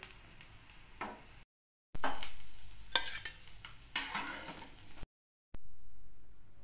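Chana dal fritters are lifted out of hot frying oil, with soft sizzling broken by short clinks and scrapes of a utensil, cut off by two brief silent gaps.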